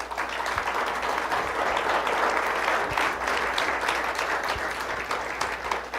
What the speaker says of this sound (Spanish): Yo le daré un aplauso al Señor.